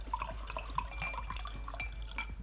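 Soy whey sake wine is poured into glasses, small liquid trickles and drips with faint glassy tinks over a low steady hum, quiet and close.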